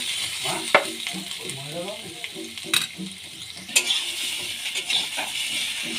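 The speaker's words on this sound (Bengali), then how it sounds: "তেলটা গরম হয়ে গেছে, এবার আমি সেদ্ধ করে রাখা আলুগুলো ভেজে নেব।" Boiled potatoes fry lightly in hot oil in a kadai for Bengali aloo dum, giving a steady close sizzle with occasional clinks and scrapes of stirring.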